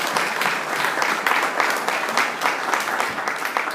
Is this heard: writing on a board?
no